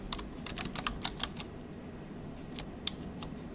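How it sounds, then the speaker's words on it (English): Keystrokes on a computer keyboard as a command is entered during a Hive and Hadoop installation, quick bursts of clicks in two clusters with a pause between, close and fairly quiet over a low background hum. "To do that, type the command java"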